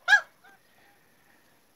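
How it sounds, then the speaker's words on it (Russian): A goose gives one loud, close honk followed by a fainter short call, then quiet. "В общем, у меня теперь 15 гусей."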